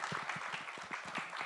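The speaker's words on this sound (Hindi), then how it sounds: "तो विद्युत जामवाल के लिए एक बार जोरदार ताली होनी चाहिए।" An audience at a Baadshaho trailer launch claps for Vidyut Jammwal, a short burst of brisk, moderately loud applause from a crowd.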